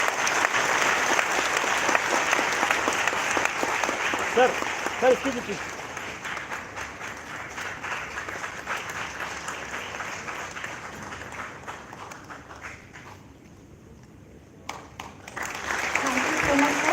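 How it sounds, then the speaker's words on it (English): An audience at the University of Lucknow applauds the Governor of Tamil Nadu, Shri R. N. Ravi, as guest speaker. Dense, sustained clapping fills the room, thins out briefly near the end, then swells again while someone speaks over it. "Please give a big round of applause."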